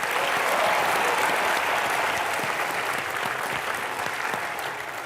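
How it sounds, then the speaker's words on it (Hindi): A studio audience at a television comedy show claps loudly and steadily, a dense sustained wave of applause that tapers slightly over a few seconds. "सौदागर के लिए पहले तो जोरदार तालियां।"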